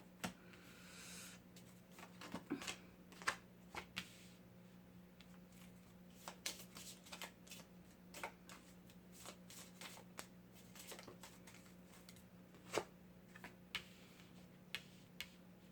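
Tarot cards being shuffled by hand, a run of irregular soft riffles and crisp clicks, close and fairly quiet over a low steady hum, with no talking.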